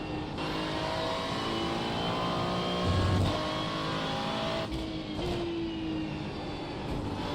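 An LMP3 race car roars past at Zandvoort circuit, a loud sustained engine drone with shifting pitch, and other cars' engines blend in the background; no one speaks.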